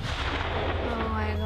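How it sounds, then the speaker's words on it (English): M1 Abrams tank firing its 120mm smoothbore cannon, a dense, loud booming blast with heavy low rumble and rolling echo filling the whole moment. "It is a supremely lethal machine equipped with a 120mm smoothbore cannon that can turn a man to mist from up to 2 miles away."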